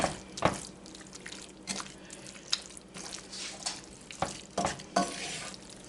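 Enchilada mix is stirred into venison in a cast iron pan. A spoon scrapes and clacks against the iron in irregular strokes over a faint, quiet sizzle.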